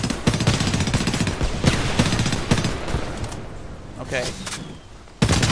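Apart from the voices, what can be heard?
gunfire in a firefight, Homefront video game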